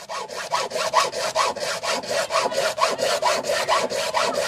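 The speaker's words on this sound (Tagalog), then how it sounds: "ang hirap mga kabayan pag lagari ng ganyan" A hand saw cuts through bamboo in quick, regular back-and-forth strokes, each rasping pass loud and close, about four strokes per second, with no talking.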